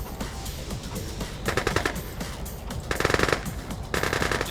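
Conscript infantry in the real-time strategy game C&C Mental Omega fire rapid bursts of gunfire in a skirmish, sharp rattling volleys that come in several loud clusters over a busy battle background.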